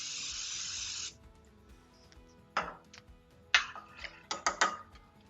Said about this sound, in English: I'm going to spray that with Nonstick cooking spray.